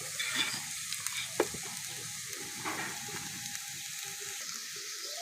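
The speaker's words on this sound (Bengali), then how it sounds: "সব কিছু নেড়ে চেড়ে ভালো করে ভেজে নেব।" Vegetables for a vegetarian vegetable chop stirred and fried in a pan, a soft, quiet sizzle with a few light spatula taps, no talking.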